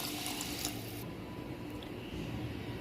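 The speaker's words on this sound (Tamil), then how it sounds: "ரெண்டு டம்ளர் அளவுக்கு தண்ணி சேர்த்துக்கலாம்." Water pours into a pot of eggplant and karamani (black-eyed pea) gravy, a close, rushing splash lasting about a second before settling into a softer bubbling trickle.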